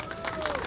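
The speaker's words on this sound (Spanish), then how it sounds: "Un aplauso, por favor, para nuestros campeones" A crowd applauds boxing champions at a weigh-in for Confesor vs Cardoza, a brief, dense burst of clapping and crowd noise under an announcer's voice.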